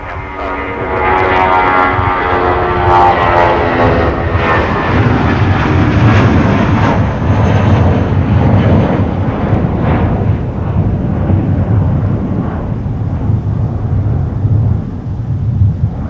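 A Sun Country airliner takes off from runway 30 left at Minneapolis–Saint Paul in winter, a loud continuous jet engine roar swelling in and holding steady with a broad rumble, close and alone without talk.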